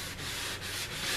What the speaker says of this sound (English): I'm just kind of taking my sanding block and I'm running it along the edges